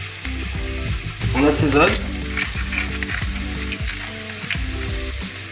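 Veal sweetbreads frying in a pan with browned mushrooms and shallots, a loud steady sizzle with scraping stirs throughout as someone talks over it briefly.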